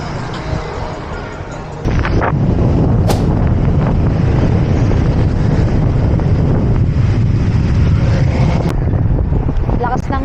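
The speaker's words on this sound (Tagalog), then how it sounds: "Lakas ng hangin" Strong wind roars across the microphone during a drizzly bicycle ride on the Laguna Loop, a dense, steady rush that gusts up sharply after a quieter opening and stays loud to the end.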